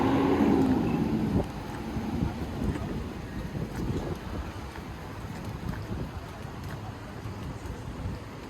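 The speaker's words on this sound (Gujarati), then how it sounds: "આજે વાદળા જેવું થઈ ગયું અને પવન બહુ જ છે" Strong wind gusting outdoors on a cloudy day in Colombo, a steady broadband rush buffeting the microphone throughout, loudest at the start, with faint voices beneath.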